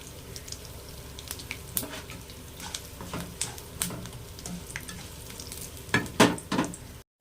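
A seasoning of spices sizzles in hot oil with turmeric added, for curry leaf rice, with steady crackling frying and occasional stirring scrapes, louder bursts near the end.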